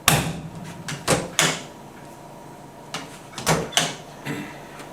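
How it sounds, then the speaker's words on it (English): Cabinet doors on a decontamination unit bang shut hard several times, a series of sharp knocks and slams spread through the stretch, some close together, against a quiet room background. "The cabinets are made to be closed hard, slammed open and shut."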